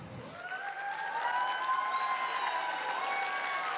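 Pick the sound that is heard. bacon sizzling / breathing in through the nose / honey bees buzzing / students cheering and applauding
students cheering and applauding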